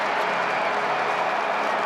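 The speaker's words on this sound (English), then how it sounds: "That woke the crowd up." A crowd inside a domed stadium roars and claps after a goal in a men's lacrosse game between Johns Hopkins and Syracuse, a loud, dense and steady wash of noise with no voices standing out.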